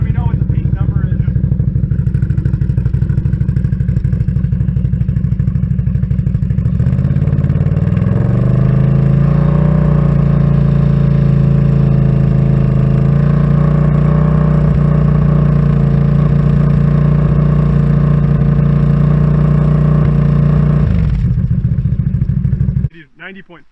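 A motorcycle fitted with an MBRP or RJWC aftermarket exhaust idles, then is revved up and held steady around 3500 rpm for about fourteen seconds before dropping back, loud and close throughout.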